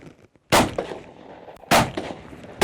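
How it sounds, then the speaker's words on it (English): Two loud shotgun blasts during upland bird hunting ring out about a second apart, each a sharp crack followed by a short rolling echo, in an otherwise quiet outdoor setting. "Oh, somebody shot one a long way off."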